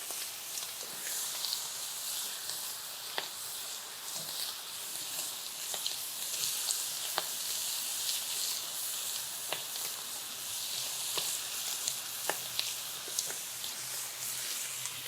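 Bacon and thin smash burger patties with American cheese cook on a griddle, giving a constant bright hiss with scattered crackles and pops at moderate loudness.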